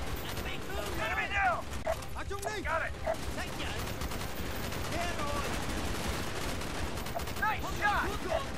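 Gunfire in Call of Duty Black Ops, with scattered shots and mechanical weapon clatter beneath a busy mix and shouted voices.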